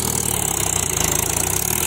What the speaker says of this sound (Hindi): कैसे निकलेगा ट्रैक्टर यो यहाँ से